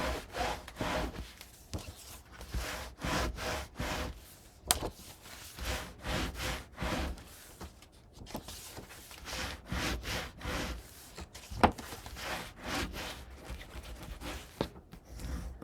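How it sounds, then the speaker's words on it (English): A burnishing tool rubs firmly back and forth across the paper pages of a handmade mini album, close and dry, in a steady run of repeated scraping strokes with brief pauses between passes. "Gonna burnish, and then I'll go through the book and burnish all of the pages."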